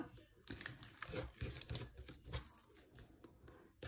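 Protective backing is peeled off adhesive tape for a paper scrapbook album, a faint, close crinkling, tearing rustle with small crackles over a few seconds.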